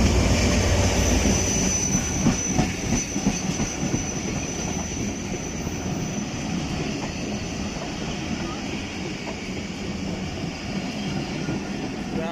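Rumble and clatter of the Shah Latif Express rolling on its rails near Mirpur Khas, loud and continuous with wheel squeal and rhythmic clacking, a voice faintly audible at times.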